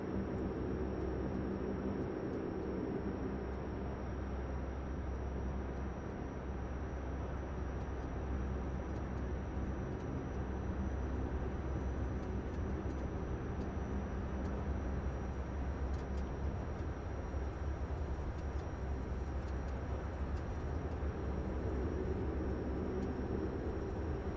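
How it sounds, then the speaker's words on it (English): Steady broadband cockpit hum of a Dash 8 Q400 airliner in a flight simulator, a constant loud whooshing drone with a faint high whine, unbroken from start to finish. "I love the ambient noise of the Dash 8, it's so nice."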